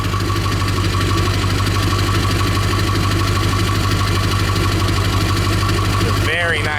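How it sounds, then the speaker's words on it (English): A 2001 Ford F250 Super Duty Powerstroke diesel pickup, lifted, rumbles steadily at idle from its exhaust, loud and close, with a low knocking diesel throb that holds unbroken before a brief voice cuts in at the very end. "I can give you a sound of the exhaust."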